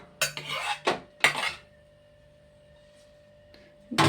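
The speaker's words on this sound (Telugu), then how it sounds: "గిన్నెలో తీసుకుంటున్నానండి ఇడ్లీ" Freshly steamed hot idlis dropped into a steel bowl: a quick run of close metallic clinks and scrapes, a quiet stretch, then one more clatter at the end, with no talking.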